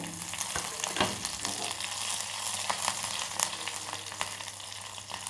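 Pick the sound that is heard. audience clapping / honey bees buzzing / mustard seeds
mustard seeds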